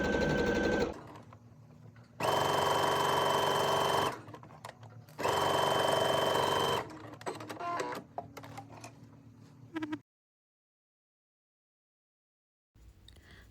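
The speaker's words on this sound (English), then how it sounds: "go ahead and take this to your sewing machine." A sewing machine stitches a bodice pocket in two loud, steady bursts of about two seconds each, with quieter handling noises between them and near silence at the end.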